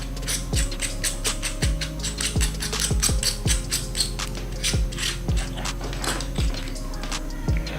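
The battery compartment of a Boya BY-M1 lavalier microphone is twisted open, giving a close, repeated series of crisp plastic ratcheting clicks at an irregular, steady pace with no talking.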